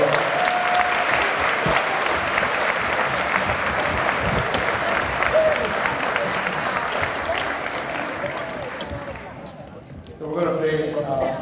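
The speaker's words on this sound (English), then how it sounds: "Big round of applause." Concert audience applauding a drumming ensemble, a sustained, loud wave of clapping and crowd noise that fades after about nine seconds before a voice starts speaking.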